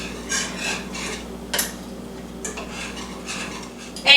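Milk being whisked in a pot for a chicken and broccoli casserole, a soft rhythmic scraping and swishing of a whisk against metal with a few brief clinks, moderately close and fairly quiet, with no talking.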